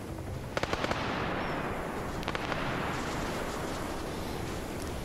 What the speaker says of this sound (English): The quad bike explosion gets them every time.